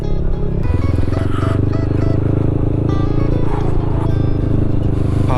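A Yamaha Xmax 300 scooter riding along a mountain road toward Nam Nao district in Thailand gives a loud, steady engine drone with road and wind noise that carries unbroken from start to finish.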